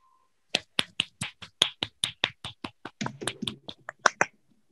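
Applause for three teachers during an online webinar, heard as a steady run of about twenty sharp, evenly spaced hand claps, close and distinct, speeding up slightly and growing denser near the end before stopping.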